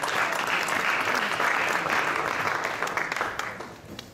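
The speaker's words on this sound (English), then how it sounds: "big round of applause for Gabriel Rosado" Audience applause at a boxing press conference, a burst of clapping that holds steady and then tapers off over a few seconds, moderately near.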